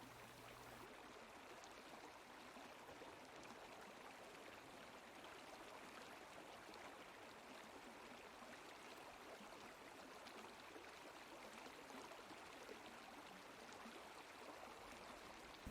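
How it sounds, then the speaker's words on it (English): Steady broadband rush of a wide, shallow creek running over large, smooth rocks, continuous and even throughout with no voices. "You arrive at a wide, shallow creek,"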